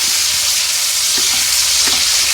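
Chopped onions frying in a pan of hot oil for a mutton keema dish, giving a steady, loud, close sizzle throughout with soft stirring ticks and no voices.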